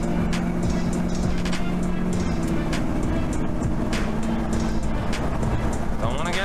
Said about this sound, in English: it's a little baby V8, but it sounds pretty good